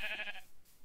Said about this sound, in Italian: Signori pecore.